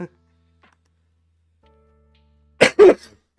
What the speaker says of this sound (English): I would like my cough to go away already.